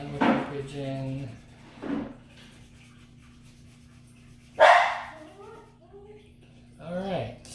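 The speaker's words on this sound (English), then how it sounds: "I think the dog's almost barking too" A dog gives a few short barks at a distance, spaced apart between bursts of nearby talking.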